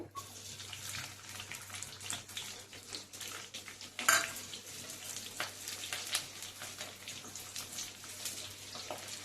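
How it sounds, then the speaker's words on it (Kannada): Square-cut onions going into hot oil for a capsicum masala: a quiet, steady hiss of frying with light clinks of utensils and one brief louder clatter midway, no voices. "ಎಣ್ಣೆಯಲ್ಲಿ ಸ್ವಲ್ಪ ಫ್ರೈ ಆಗಬೇಕು, ತುಂಬ ಹೊತ್ತು ಬೇಯಿಸಬಾರ್ದು ಈರುಳ್ಳಿ."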